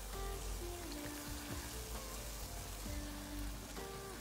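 Peanut glutinous rice balls deep frying slowly in oil over low heat, a dense, steady crackling sizzle filling the whole stretch, with faint tonal background hum and occasional soft tones over it.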